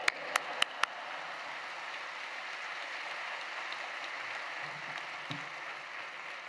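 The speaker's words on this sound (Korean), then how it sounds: "큰 박수로 맞이하겠습니다" A large church congregation claps steadily to welcome a guest speaker during a Friday evening service at Yoido Full Gospel Church, a distant, even wash of applause running throughout after a few sharp claps at the start.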